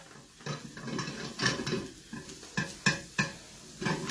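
Garlic is stirred in a pot for a sweet potato, chilli and coconut soup, with bursts of scraping and clinking utensil strokes over a faint sizzle.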